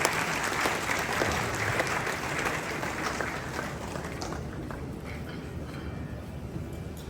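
An audience in a large jubilee event hall in Ghana claps in sustained, dense applause that stays loud and steady, then eases slightly toward the end, with no voices over it.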